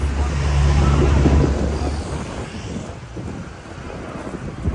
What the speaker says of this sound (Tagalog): Mahangin naman. Mahangin.